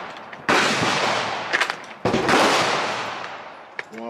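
Two loud, sharp gunshots from a .40 caliber handgun fired outdoors, each cracking close to the microphone and followed by a long, rolling echo tail.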